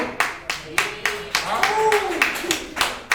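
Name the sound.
audience clapping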